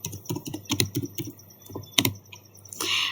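Rapid, close clicking on a computer keyboard as Cisco router BGP commands are typed: irregular bursts of keystrokes with short pauses, then a louder single key press near the end.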